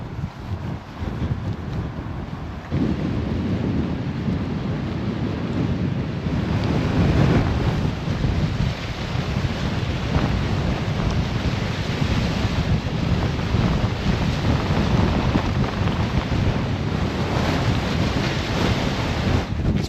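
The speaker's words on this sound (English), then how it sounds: "It's wild. Windy a bit" Strong wind buffets and roars steadily on a walk by the Ness Islands in Inverness, a loud rushing blast that gusts and swells throughout with no talking.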